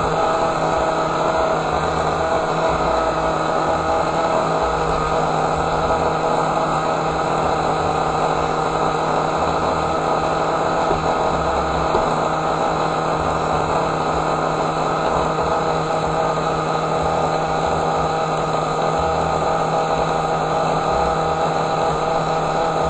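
The Ratdaddy Hellbus engine idles steadily on its own, a constant loud droning hum with an even low throb and no throttle changes.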